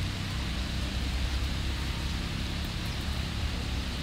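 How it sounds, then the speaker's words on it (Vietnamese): Steady rain falls at a garden nursery in Đồng Tháp, a continuous even hiss with low rumble, moderately quiet and unbroken, with no voices. "trời tiếp tục mưa rồi cả nhà ơi"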